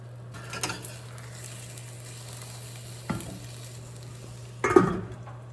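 Meatballs frying in a pan at home, a soft continuous sizzle under a steady hum, broken by a few brief stirring clatters, the loudest near the end, with no one talking.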